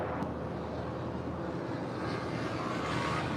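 A Boeing 777-300ER airliner taking off from runway 25 right at LAX, a steady, loud, broadband jet roar that holds evenly throughout with no voices.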